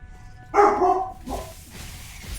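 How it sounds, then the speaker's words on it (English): A pet dog lets out one short, sharp bark in the background of an indoor room, followed by a quieter, muffled yip as it trails off. "Ah, we have some barking going on by the pupper."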